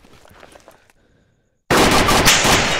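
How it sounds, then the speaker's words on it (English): Gunshot in the video game DayZ: faint shuffling and movement give way to silence, then a sudden loud blast erupts and rolls on as a dense, sustained roar of gunfire. "I just shot him"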